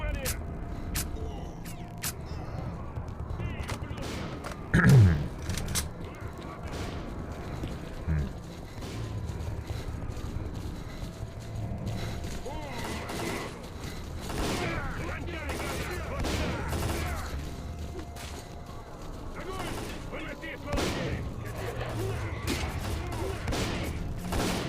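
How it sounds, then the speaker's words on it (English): Suppressive gunfire in STALKER: Clear Sky, scattered rifle bursts and single shots cracking over a steady ambient bed, with a player talking across most of the stretch. "I'll just provide a suppressive fire."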